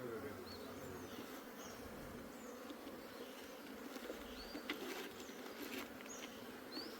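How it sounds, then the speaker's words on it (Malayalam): Honeybees buzzing around a wooden hive box, a continuous, fairly quiet swarm hum with individual bees droning close by. "ഈച്ച മുഴുവൻ ഇതിൻ്റെ ഉള്ളിലുണ്ട്."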